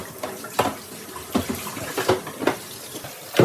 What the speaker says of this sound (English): Now rinse off the main bucket that collects dirty water.